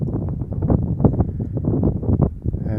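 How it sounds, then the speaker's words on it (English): Strong wind gusts across an open field of dry grass near a lava-rock fire pit, buffeting the microphone with a loud, steady low roar that rises and falls in uneven surges. "And it's very windy."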